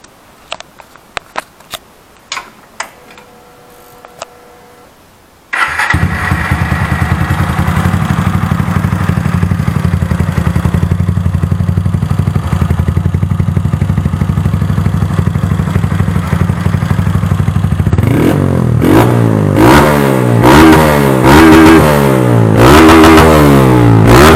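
A Honda Titan 160 motorcycle with a tuned exhaust, performance camshaft and ported cylinder head starts up after a few faint clicks, then settles into a loud, steady, rumbling idle before a series of sharp, repeated throttle revs near the end.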